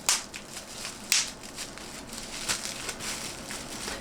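Bubble wrap packaging around a glass bottle from a beauty subscription bag crinkles and crackles as it is pulled open, with several sharp rustling bursts over quieter handling noise, close by.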